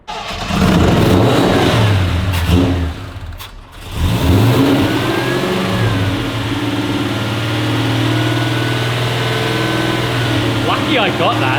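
A carbureted car engine converted to Sniper EFI fires up on a dyno and revs hard, dips briefly, then catches and settles into a loud, steady drone. Voices talk over it.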